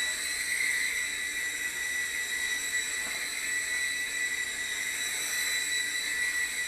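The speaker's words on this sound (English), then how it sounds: "to be able to fly a helicopter like this in an area this small is a pretty impressive feat" A Hisky HFP80 V2 RC helicopter hovers in a small area, giving a steady high-pitched motor and rotor whine with strong tonal bands, constant and fairly close throughout with no talk.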